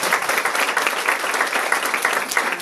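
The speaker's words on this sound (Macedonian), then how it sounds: "младиот господин заслужува еден аплауз" An audience at a lecture on sensory hypersensitivity in autism claps steadily, a dense, even burst of applause from many hands, loud and close, with no pauses.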